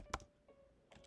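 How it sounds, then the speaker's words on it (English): A few brief keystrokes on a computer keyboard, a short burst followed by quiet and a second small cluster, close and fairly faint with no talking. "I just cannot type and talk"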